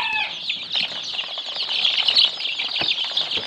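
Brooding chicks about fourteen days old chirp continuously as a dense, overlapping chorus of high peeps with faint rustling, steady and close throughout.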